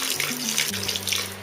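Water poured onto strained chhena for sandesh modak, a steady close splashing flow with no talk over it.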